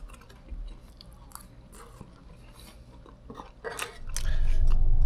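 Someone chews a big mouthful of potatoes and beef, with soft crunching and biting sounds close to the mic that fall into a louder low rumble at the end.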